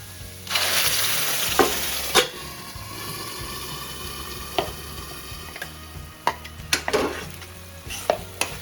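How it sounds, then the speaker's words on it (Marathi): Onion frying in a pan as chutney masala is added, with continuous sizzling and several sharp clicks and scrapes of stirring and utensils against the pan, close and fairly loud, with no speech. "कांदा बऱ्यापैकी भाजला आहे आता याच्यामध्ये आपण ते चटणी घालायची आहे"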